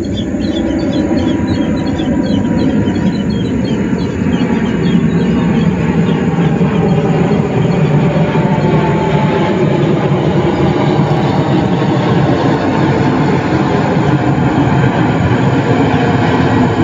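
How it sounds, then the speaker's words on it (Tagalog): An airplane passes low overhead along a flight path, a loud, continuous jet roar that fills the scene, with slowly shifting tones as it moves past. "Aeroplano dito guys, kasi daanan ng aeroplano to eh. Oh, sa tapat lang natin yung aeroplano."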